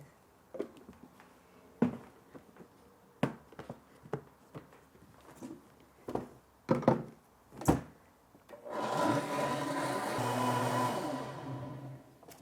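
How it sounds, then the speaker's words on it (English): A Blendtec blender blending cashew milk starts after a series of scattered knocks and thuds, then runs as a loud steady whir for the last few seconds. "Mine is a Blendtec, and it only has to go in there for 50 seconds at maximum speeds."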